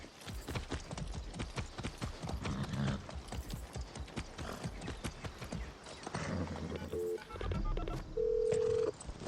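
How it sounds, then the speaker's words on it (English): Horse hooves clip-clop steadily and quickly throughout a ride in the video game Far Cry 6, dense and close, with short electronic beeps and a low rumble joining near the end. "That's a good horse."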